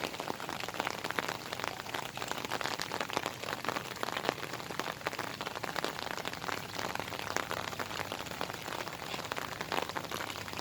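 Heavy rain pours steadily on a home garden with taro and pomegranate plants, a dense, even hiss of drops striking surfaces that carries on without a break throughout.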